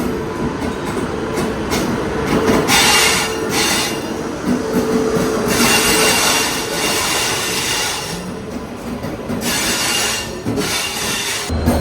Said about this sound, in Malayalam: മൈസൂരു ചെന്നൈ ശതാബ്ദി എക്സ്പ്രസ് ഇവിടെ നിന്നാണ് പുറപ്പെടുക കേട്ടോ. അപ്പം അതിൻ്റെ ഡിപ്പാർച്ചറാണ് നിങ്ങൾ ഈ കാണുന്നത്.